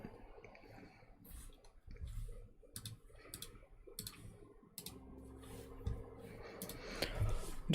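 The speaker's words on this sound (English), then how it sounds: "the keyboard's extremely loud" A computer keyboard clatters with irregular quick clicks and taps at close range, mixed with faint background noise and other game sounds.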